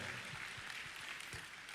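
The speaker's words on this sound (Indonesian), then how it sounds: "Mau tepuk tangan?" Scattered clapping from a church congregation during an online worship service, a steady hiss of hands under a few soft low thumps, moderate and continuous for under two seconds with no talking.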